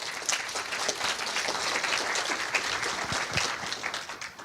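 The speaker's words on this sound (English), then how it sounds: "Big round of applause, please, for Toshaan." A conference audience at DevOps Days Kyiv 2019 claps for a speaker, steady, dense applause from many hands, sustained and fairly close for the whole stretch without letting up.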